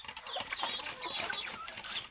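Pet chickens clucking, grown birds raised at home, a soft continuous mix of clucks and chatter from a small flock, fairly faint and close, with no talk.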